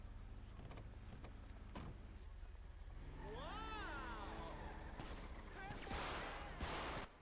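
Gunfire aimed at a motorcyclist during a video game convoy shootout: a few sharp bursts of shots amid swirling game effects and engine whine, fairly quiet overall and growing busier toward the end.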